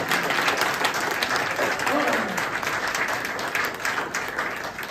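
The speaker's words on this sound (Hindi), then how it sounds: "बजा दो ताली जबरदस्त वाली" Audience applauding loudly and steadily at an indoor Republic Day free health checkup event at a wellness centre, a dense wash of clapping with crowd noise that holds for several seconds and eases slightly toward the end.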